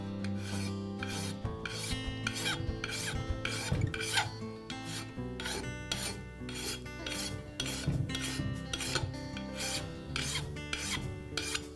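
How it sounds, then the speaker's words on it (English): A hand file rasps along the bevel of a lawn mower blade in a brisk, even rhythm of repeated scraping strokes, close and clear, with no speech. "I'll place the file onto the bevel, match the angle, and then try to hold that angle as I file."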